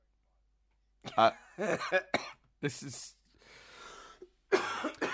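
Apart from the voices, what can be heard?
coughing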